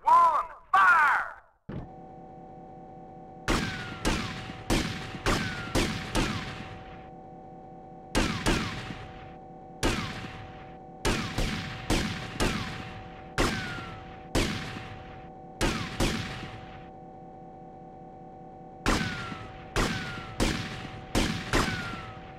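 Rifle volley from a firing squad in GTA Vice City: repeated bursts of sharp, loud gunshots in irregular clusters over a steady low hum, with a brief voice at the start.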